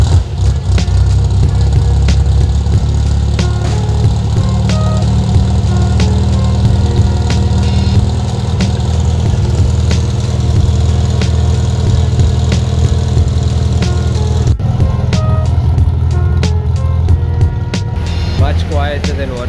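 Toyota KE70 Corolla engine idling steadily through a newly welded exhaust, a loud continuous low drone with engine harmonics throughout, and a person speaks over it.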